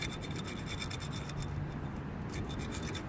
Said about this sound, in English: Let me keep scraping this up.